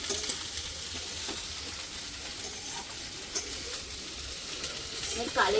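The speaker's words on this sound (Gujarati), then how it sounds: "ખાલી લસણ ને આદુ પહેલા નાખી દેવાનું, ને હવે તો બધું સંભુ મેળો." Garlic and ginger with vegetables stir-fry for a Chinese-style dinner in a home kitchen, giving a steady faint hissing sizzle with soft scraping stirs now and then.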